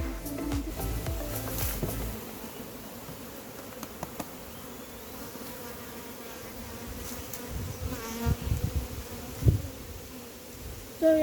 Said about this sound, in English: now we are trying to get the bees in now.